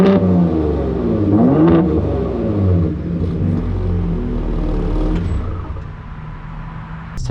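A 3.5-liter twin-turbo EcoBoost V6 roars as it revs, a loud, close engine note that rises and swells, then holds a deep rumble and eases off toward the end, with no talking.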